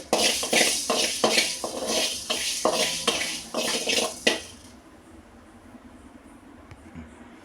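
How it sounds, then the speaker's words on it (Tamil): Fenugreek seeds roasting in a pan for tamarind rice are stirred in a quick run of scraping, rattling strokes for about four seconds before the clip drops to a faint, quiet hiss. "நல்லா இந்த மாதிரி நமக்கு வெந்தயம் நல்லா வறுப்படணும். எல்லாமே ஈவனாக."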